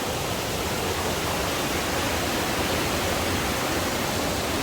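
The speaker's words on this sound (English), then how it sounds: "small little waterfalls." Small waterfalls on a mountain river in the Great Smoky Mountains, a continuous dense rushing roar of falling water, steady and close with no gaps.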